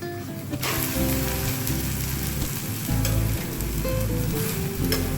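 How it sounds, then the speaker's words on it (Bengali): A Bengali vegetarian snack fries in a pan, crackling and sizzling steadily at close range, with occasional stirring scrapes and a low hum underneath. "হোক হোক, একদিকটা ভাজা হোক"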